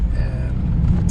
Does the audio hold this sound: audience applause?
no